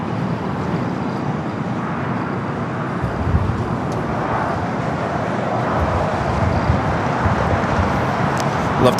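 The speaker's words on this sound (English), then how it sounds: "Lufthansa Flight 456 coming in from Frankfurt, the 747-8 Intercontinental" A Lufthansa Boeing 747-8 Intercontinental arriving at LAX from Frankfurt, a steady broadband jet roar that swells slightly as it approaches, heard continuously at moderate distance with a faint voice at times.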